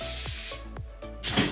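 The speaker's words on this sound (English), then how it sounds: "I'm actually going to start spraying now." Hairspray is blasted onto a drag wig in short bursts, close and loud, with brief gaps and clicks between the hissing sprays.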